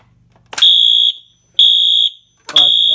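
Fire alarm sounding a British-style tone: three loud, piercing electronic beeps, each about half a second long and separated by short gaps, heard close up and alone.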